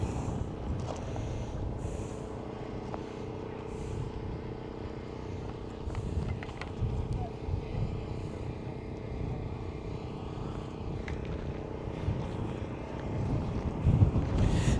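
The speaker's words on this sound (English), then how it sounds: "it is super, super windy, so hopefully you're able to hear me over the wind" Strong desert wind buffets a microphone near Seven Magic Mountains, a constant low rumbling roar with gusty swells, no voices present.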